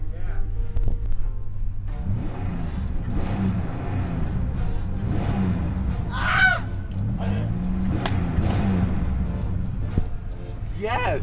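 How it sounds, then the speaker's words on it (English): A Buick with straight-piped exhaust revs its engine up close, a loud, rough roar that swells and falls across the whole stretch while people talk over it. "Just sit back there and I'll rev it."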